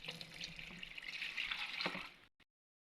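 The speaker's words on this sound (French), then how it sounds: "vous allez commencer par ajouter de l'eau pour faciliter le malassage" Water running from a tap and pouring into a thick liquid soap paste during soap making, a steady splashing flow for about two seconds that stops abruptly, with no talk.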